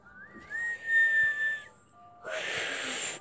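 A thin, wavering whistle tries a few notes, breaking into airy hiss and strained tones rather than a clean melody.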